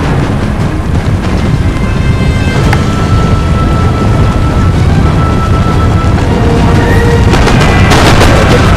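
Musket volleys crack repeatedly over a dense, loud battlefield din in Napoleon Total War, with sharp shots scattered throughout and clustering near the end.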